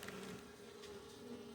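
Honey bees fly in to their hive on a mild winter day, carrying pollen and nectar. Their buzzing forms a soft, continuous drone close by, with no voices.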